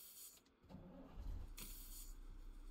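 A truck engine cranks and turns over in the video game Alaskan Road Truckers, the rig fitted with tire chains, catching after a short start and settling into a low, quiet idle.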